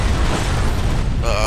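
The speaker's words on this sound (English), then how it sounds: "That was a pretty good explosion." A loud explosion booms in the video game Blacksite: Area 51, a dense low rumble filling the whole moment with a brighter crackling burst near the end, amid continuous game noise.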